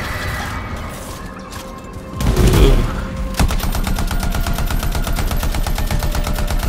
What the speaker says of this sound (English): Come on now, some of these bullets gotta be hitting.